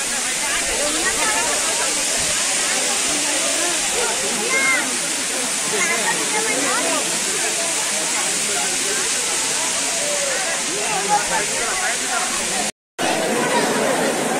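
Steady rushing waterfall near a hilltop Devi temple, a broad continuous roar of falling water filling the whole clip, with crowd chatter from people queued nearby mixed underneath.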